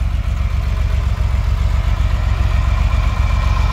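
The air-cooled engine of a 1978 Porsche 911 SC Targa runs continuously with a loud, deep, steady rumble and a faint mechanical clatter, heard close up with no other sounds.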